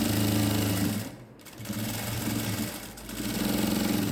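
Sewing machine running in steady bursts as it stitches the side seam of a pair of ladies' elastic-waist pants, loud and close, with a brief pause partway through.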